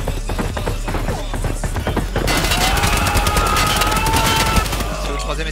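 Rapid automatic gunfire from an online shooter game, Escape from Tarkov, fires in dense rhythmic bursts that grow louder and faster partway through, sustained close bursts.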